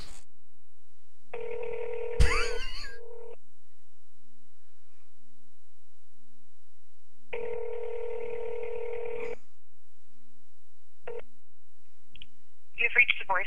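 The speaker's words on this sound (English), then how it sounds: "Dialing." Telephone dialing tones: two long steady beeps of a couple of seconds each, separated by a long gap, then a short beep and a brief burst of rapid tones, with a quiet click and faint background hum.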